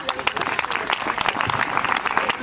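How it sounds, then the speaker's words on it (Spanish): Audience at the Canta con Ámes singing contest applauding a senior-category singer with brisk, dense clapping that stays loud and steady throughout. "Un forte aplauso para Alicia."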